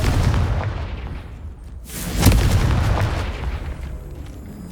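A Confringo spell blast in Hogwarts Legacy, a single loud fiery burst about midway that swells and rumbles away amid other combat noise, with no voices.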